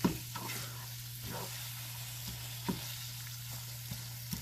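Chopped beef seasoned with salt, pepper, garlic powder and onion powder fries in a pan for chili, giving a steady close sizzle with a few soft utensil taps and no talking.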